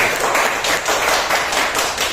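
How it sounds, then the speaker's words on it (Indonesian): An audience claps together in warm appreciation of two presenters at a teacher-training session in Indonesia, with a dense, steady wash of hands over two seconds and no voices on top. "Sebelumnya mari kita kasih tepuk apresiasi untuk Pak Wahyu dan Pak Anton."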